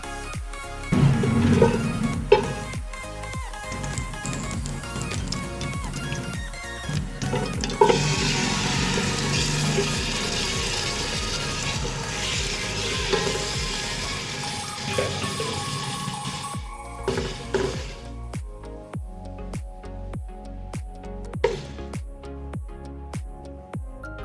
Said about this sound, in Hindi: इसको हम 5 से 10 मिनट भून लेंगे और हम इसको 5 से 10 minute medium to low flame पे भूनेंगे